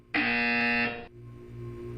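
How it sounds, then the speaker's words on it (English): A single loud, harsh electronic buzzer in the video game Portal 2 blares for about a second, then cuts off, leaving a low hum. "When you hear the buzzer, look down at the floor."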